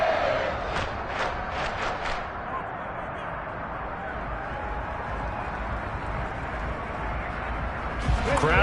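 A stadium crowd roars steadily in a college football video game, a continuous broad wash of cheering that swells slightly near the end while a commentator talks over it.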